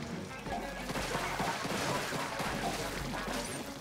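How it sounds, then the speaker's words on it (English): Explosions in the Splatoon video game pop in quick, dense bursts over several seconds, loud and close with crashing hits layered under game sounds. "Defensive explosions."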